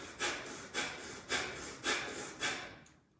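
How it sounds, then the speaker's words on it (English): Sharp, rhythmic breath-of-fire breathing pushed in and out through the nose while pumping the belly during a vinyasa yoga flow, five or six evenly spaced airy snorting pulses, close and moderately loud with no talking. "it's going to be sharp diaphragmatic breathing in and out through your nose while you pump your belly"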